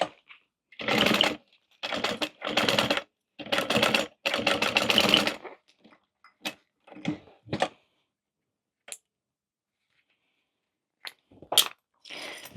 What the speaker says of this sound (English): Stitch that together.